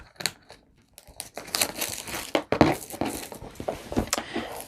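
Plastic packaging around embroidery thread is snipped and crinkled open, giving faint, irregular rustles, crackles and short tearing bursts close by.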